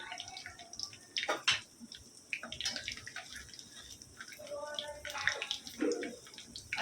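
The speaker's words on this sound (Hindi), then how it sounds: "अभी करी पत्ता और जीरा डालो।" Curry leaves and cumin seeds dropped into hot oil for a tempering for spiced buttermilk, a faint crackling and spitting sizzle with scattered pops and clatters of utensils.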